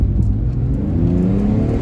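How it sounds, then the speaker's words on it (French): An uncommon drift-capable car with a loud exhaust, awaiting a stainless silencer, its engine droning and revving upward close by, continuous and loud for a couple of seconds. "On entend le moteur quand même."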